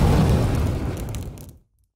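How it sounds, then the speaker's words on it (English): Artillery explosions from the Kingdom Rush strategy video game: a loud, broad booming blast that rumbles and fades over about a second and a half before cutting to silence. "I believe it starts with artillery here. Laying down some serious fire."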